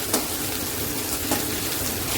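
Onions sizzling loudly in a hot kadhai over a medium flame, with a steady frying hiss and occasional scraping as the spoon stirs them, close up and without talking.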